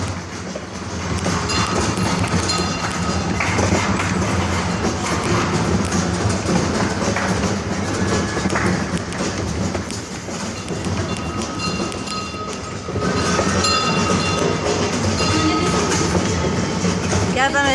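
A kiddie train ride rolls through a shopping mall with a steady rumbling, rattling clatter and occasional squeaks, continuous and close, while voices and mall chatter carry on over it.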